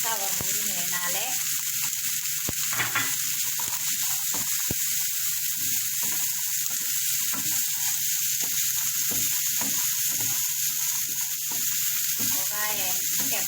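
Cut potatoes fry in a pan with a loud, continuous sizzle and crackle, close by, with occasional stirring and scraping, and no talking.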